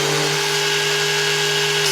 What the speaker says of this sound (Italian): Poggio la smerigliatrice sul banco, farà un po' più di rumore perché il banco vibra